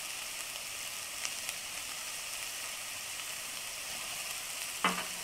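Garlic and onion fry in a pan with a constant, fairly quiet sizzle, a couple of faint ticks, and a brief clink near the end.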